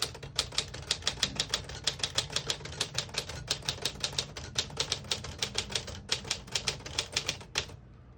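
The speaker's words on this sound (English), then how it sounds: "We're going to put it on red and type a sentence." Brisk, steady keystrokes from a 1954 Smith-Corona Silent-Super portable typewriter typing a sentence in red ribbon mode, about forty crisp close-up clacks in an even rhythm that stop just before the end, with no talk.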